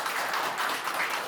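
An audience claps at a candidates' debate for a construction engineers' association presidency, a brief dense wash of applause from a crowd throughout.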